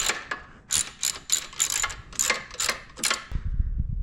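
A ratchet wrench fitted with a 10 mm socket loosens a bolt on a Honda CT90 during teardown, giving several quick bursts of close, crisp clicking, then a short low rumble at the end.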